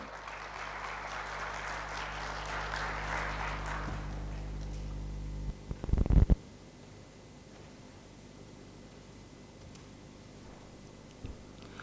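An indoor audience at an inauguration ceremony claps for the guests on stage, a dense burst of applause lasting about four seconds before fading, followed by a couple of close thumps and then quiet room tone.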